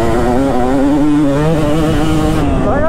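A Kawasaki KX250 two-stroke motocross bike revs loudly and close, its buzzy, wavering engine note rising and falling in quick surges throughout.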